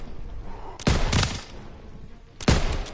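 Machine gun fire in Call of Duty WW2 strikes in two loud, close bursts, each a dense rattling volley that tails off into a rumble, separated by a lower stretch of background battle noise.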